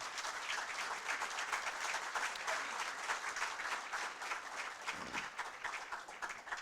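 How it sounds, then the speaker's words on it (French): An assembly audience at a philosophy café gathering applauds itself, a continuous, fairly distant wash of many hands clapping that stays even for several seconds, with a brief low thump near the end. "je vais vous demander de vous applaudir très fortement ce soir pour votre présence ici"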